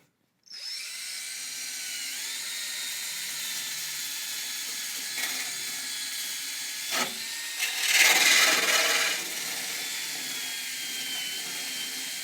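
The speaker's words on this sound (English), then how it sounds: "we're going to use that to continue grinding this metal, trying to get as much of this rust off as we can" A drill fitted with a scuff pad grinds rust off the metal of a 1966 Mustang under restoration, a steady high whirring abrasion heard up close that runs continuously with brief surges of harsher scraping.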